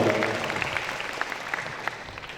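An audience at a school student-council training event applauds a speaker with steady, moderately loud clapping throughout, and a voice briefly speaks over the start.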